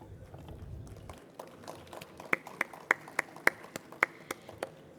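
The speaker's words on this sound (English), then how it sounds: "please welcome him with a huge round of applause" Audience applause in a hall at the STAI Centennial 83rd Annual Conference 2025, a scattered set of about a dozen sharp claps in an uneven rhythm, moderately close and fairly quiet, with no talk over them.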